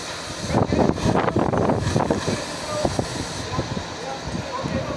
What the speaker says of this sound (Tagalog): na mahangin talaga dito